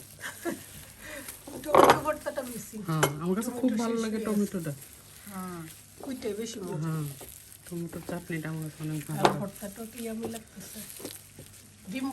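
Onions fry in leftover hilsa fish oil at a home gathering, a soft hiss of sizzling running underneath lively, close conversation that dominates throughout.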